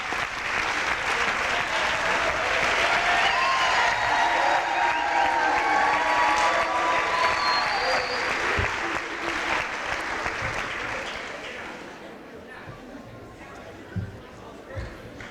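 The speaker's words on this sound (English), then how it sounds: "you need to give them a round of applause" Audience applause for coaches at an athletic awards event, a dense sustained clapping across the hall with crowd voices mixed in, loud for most of the stretch before thinning and tapering off near the end.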